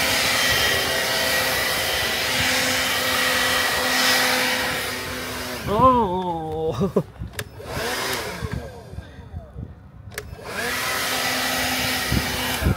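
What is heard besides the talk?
blower running outdoors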